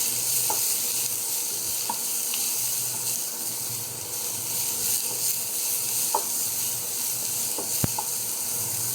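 Chopped onions sizzle steadily in a hot pan for a dish of coconut-milk banana blossom with shrimp, with occasional sharp scrapes and taps of a spoon stirring them, close and continuous without talk.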